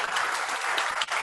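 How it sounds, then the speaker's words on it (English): An audience at an evening talk on Morgan's Great Raid applauds, a dense, steady wash of many hands clapping throughout at moderate distance, without talk over it. "Let's give him a round of applause."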